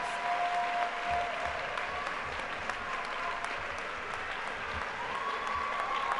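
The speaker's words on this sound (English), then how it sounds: "I want you to give him a round of applause" Graduation ceremony audience applauding Robert Brown, a steady, fairly quiet mass of clapping heard from a distance in a large hall, continuing evenly throughout.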